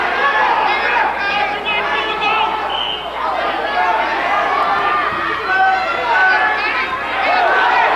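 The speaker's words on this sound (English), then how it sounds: "those are the Paulsboro fans getting a little bit excited" Paulsboro fans at a 1988 high school wrestling final in the gym, a steady buzz of excited crowd noise and chatter with a commentator talking over it.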